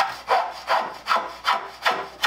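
A draw knife blade being sharpened bevel down, five even rhythmic abrasive strokes, close and fairly loud, each a rasping swish.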